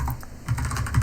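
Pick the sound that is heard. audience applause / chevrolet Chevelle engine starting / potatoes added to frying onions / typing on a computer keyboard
typing on a computer keyboard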